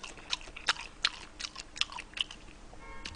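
Crunchy chewing on pickled radish for gimbap, a series of crisp, close bites and munches in a quiet room.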